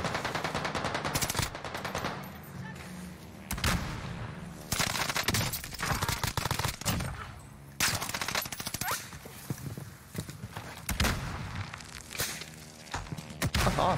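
Call of Duty Warzone gunfire, loud close automatic bursts in several volleys separated by short lulls, with footsteps and thuds in between.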